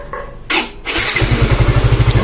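A motorcycle engine cranks briefly, catches and settles into a loud, close, steady idle with an even rhythmic pulse.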